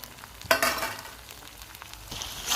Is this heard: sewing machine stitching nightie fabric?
no